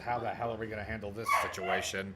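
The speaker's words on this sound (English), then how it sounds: "sorry about my dog barking" A pet dog barks and yips in a room at home, in short bursts mixed in under a person talking and game dialogue.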